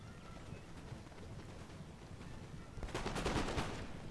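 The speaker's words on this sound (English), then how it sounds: "So it's my foot guard unit, just firing off there." Musket volleys from a foot guard unit in Napoleon: Total War, a crackling burst of massed shots rising over steady battlefield din in the last second or so.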